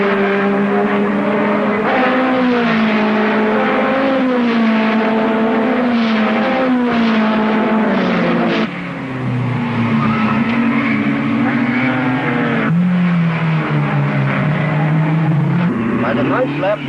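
BRM and Cooper racing cars, Moss among them, thunder past on a circuit in an old race, their engines a loud, continuous roar with rising and falling pitch as they pass and shift, commentary running over them.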